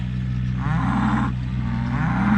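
Cows in a ryegrass pasture give two loud, close moos in succession, each a long, low, drawn-out call.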